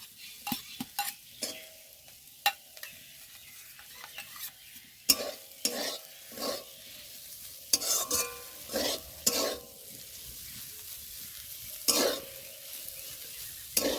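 Prawns with pumpkin leaves fry in a pan: soft continuous sizzling under repeated scraping strokes of a spatula against the pan, close and fairly quiet.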